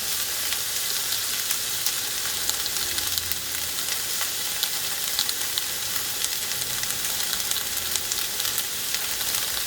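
Flattened, peeled garlic cloves sizzle in hot oil in a pan. The frying hiss is steady and close, with small crackles throughout and no talk.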